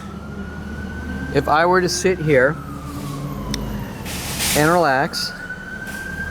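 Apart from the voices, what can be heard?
fire truck or ambulance siren passing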